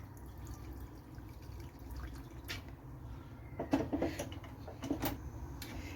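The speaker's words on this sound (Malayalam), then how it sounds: "നമുക്കിതിലേക്ക് കുറച്ച് വെള്ളം കൂടി ചേർത്ത് കൊടുക്കാം" Water poured into a pan of chicken liver with salt and spices, faint trickling and dripping with a few brief splashes and clinks toward the end, close but quiet, no voices.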